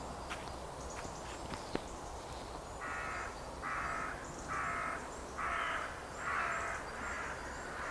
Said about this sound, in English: listening to the crows, being with the trees